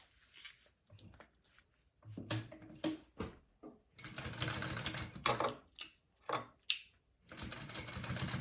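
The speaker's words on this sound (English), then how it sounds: "I want to sew it at a 1/4 inch seam allowance" Sewing machine stitching exterior and lining fabric together at a quarter-inch seam, running in short bursts that start and stop, close and fairly quiet, with pauses between runs.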